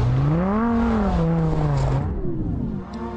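A Lamborghini Gallardo LP560-4 supercar revs loudly on snow, its engine note rising, falling and then settling into a steady drone.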